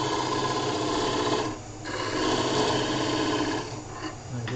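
A metal face is squared with a run of small filing or cutting strokes, a steady close rasping scrape that pauses briefly twice between passes.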